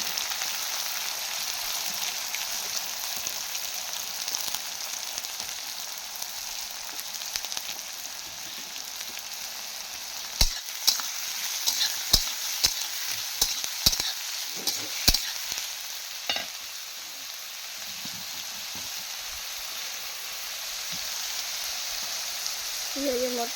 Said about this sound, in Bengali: এরপরে আমি পেঁয়াজ দিয়ে দেবো।